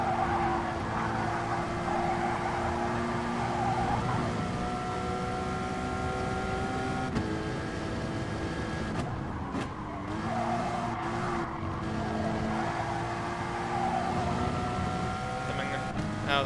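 A Gr.4 race car laps the St Croix B circuit in GT Sport, its engine droning steadily with shifting pitch and tires squealing through the corners. A voice talks over it.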